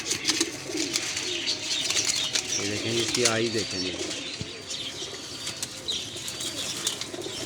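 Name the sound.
pigeons cooing and flapping wings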